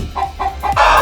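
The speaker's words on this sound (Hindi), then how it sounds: "हे नन्ही मुर्गी, जल्दी से इन अंडों में से चूजे निकालो" A small hen gives several short, bright clucks in quick succession, close and loud, ending in a longer, harsher squawk.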